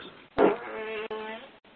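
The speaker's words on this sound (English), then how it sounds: "A box of farts." Farts from a box of farts: a drawn-out, buzzing, tonal flatulent blast with a sputtering start, briefly cut off, then resuming before a faint tail, loud and close.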